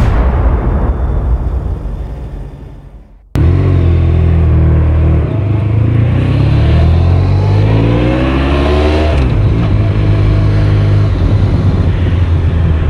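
A Honda VFR1200F motorcycle rides out after maintenance: a loud, close engine drone rises and falls through revs and gear changes, following a windy stretch and a sudden cut.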